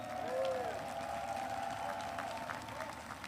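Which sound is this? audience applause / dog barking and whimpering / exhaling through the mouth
audience applause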